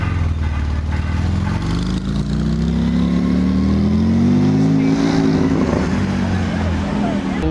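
A BMW M6 in matte blue revs loudly and close by, its engine note climbing in a steady sweep and then easing back, continuous for several seconds.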